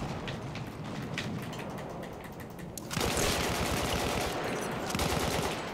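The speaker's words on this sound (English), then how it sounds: "Our own teammates are shooting at us." Dense rapid automatic gunfire from the Battlefield 1 video game, loud and continuous, with a burst of heavier firing that thickens the sound partway through and holds to the end.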